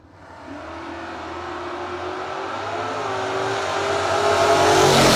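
Chevelle drag car launching down the strip at a no-box bracket race, a loud raw engine roar that swells from a quick start and climbs steadily in pitch and volume as it pulls away, with no talk.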